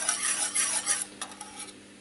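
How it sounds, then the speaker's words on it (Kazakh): A spoon stirs a bubbling mixture of melted honey and baking soda turning to caramel in a pot, close scraping strokes over a soft sizzle, busier at first and then quieter. "Енді араластырамыз."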